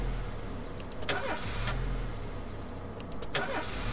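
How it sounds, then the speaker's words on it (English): Car engine failing to start in the video game This is the Police, two brief cranking attempts over a steady low engine hum, neither catching, fairly close and moderately loud. "Guess my car doesn't want to start up"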